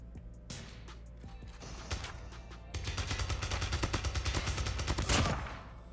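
Gunfire in a Call of Duty Mobile match on the Highrise map: dense rapid bursts and sharp shots crackling almost continuously, loud and close over steady game background noise.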